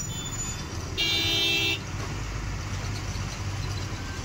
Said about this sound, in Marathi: आता कोल्हापूरला परत एकदा ट्रॅफिक लागलंय.